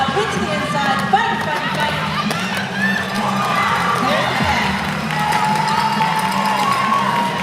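Roller derby bout crowd cheering and shouting in an arena, a continuous lively roar with whoops and yells, while an announcer talks over it.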